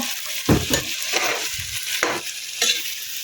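Onions sizzle loudly in a pan, broken by several rough scraping strokes of a spatula stirring them in quick bursts, close and without any voices.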